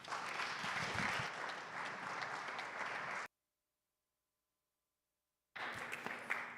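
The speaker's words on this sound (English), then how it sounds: "please give a warm round of applause for Dr." A room full of people applauds to welcome a doctor giving a lecture, a dense, even wash of clapping that breaks off into silence and then resumes.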